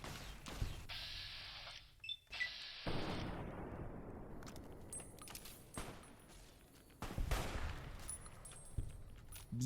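Gunfire in Fallout New Vegas, a series of sharp game gunshots and blasts with a jangling metallic burst early on, then decaying noise and further shots spread through, no talk.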